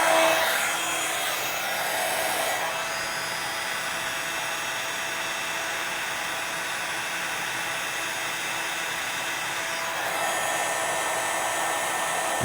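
An embossing heat tool blows a constant airy roar while melting glitter embossing powder, running steadily for over ten seconds with a slight shift in tone near the start and end, loud and close with no talk.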